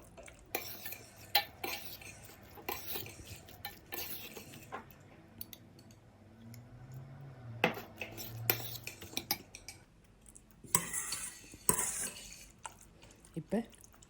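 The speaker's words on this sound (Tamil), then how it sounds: "அதில் தயிர் சேர்த்து நல்லா மிக்ஸ் பண்ணிவிடுங்க." A spoon stirs yogurt into cooled creamy chicken sandwich filling in a bowl, giving close, intermittent scrapes and light metallic clinks that come in short bursts with quiet pauses between.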